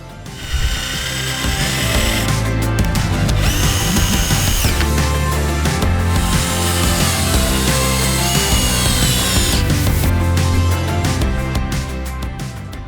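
A power drill drives screws to fix a cut wooden step piece to the bottom of a pallet, loud whirring bursts with pitch changes and ratcheting clicks, close up with no talking.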